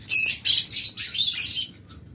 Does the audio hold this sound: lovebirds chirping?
yes